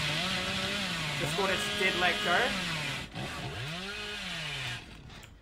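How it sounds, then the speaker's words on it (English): Billy's chainsaw in the game Dead by Daylight revs with a buzzing engine drone that rises and falls, fairly loud and continuous, while someone talks over it. "I do have a very fast chainsaw, and I don't want to commit to a tunnel here."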